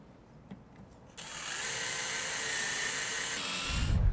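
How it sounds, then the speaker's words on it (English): A power drill driving a screw into the header of a Trektop Glide vehicle top: a sharp whir starts after a second of quiet, holds a steady high whine for over two seconds, then cuts off with a low thump, close by. "then drive that screw all the way in"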